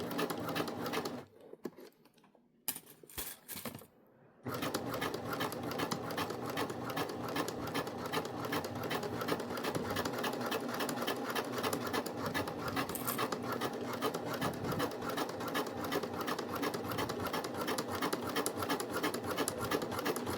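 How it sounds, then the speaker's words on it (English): A sewing machine stitches slowly around a curve on a small credit card wallet. After a few brief stops and starts, it settles into a steady, close, continuous whirring hum. "you're just going to sew slow so that you can get that curve"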